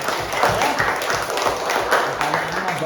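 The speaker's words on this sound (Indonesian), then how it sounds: "Tepuk tangan buat Diva dulu" A classroom group applauds a student named Diva during an Islamic religious education lesson: a short, steady burst of mixed hand claps at close range with a faint voice underneath.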